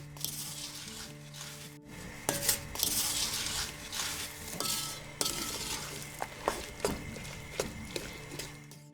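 Small batch of jam stirred in a pot after vinegar or lemon juice goes in, with steady utensil scraping and clinks against the pan over a low sizzle and hum.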